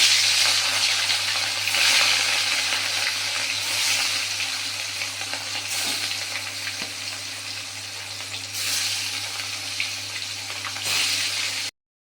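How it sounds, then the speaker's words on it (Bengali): Pieces of rohu fish fry in hot oil in a wok, giving a steady, loud sizzle that crackles continuously for the whole stretch, with a low electrical hum underneath and no voices. "একে একে মাছগুলো তেলের মধ্যে দিয়ে দেবো"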